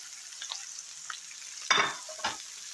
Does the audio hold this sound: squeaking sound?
no